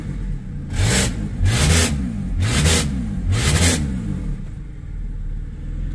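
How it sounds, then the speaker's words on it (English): Car engine with a freshly replaced catalytic converter, revved four times in quick succession at close range, each blip rising and falling sharply before settling back to idle, with no talking. "Listen to that throttle response."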